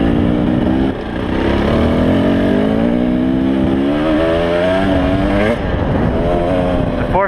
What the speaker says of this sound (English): I'm on the KTM 300 2018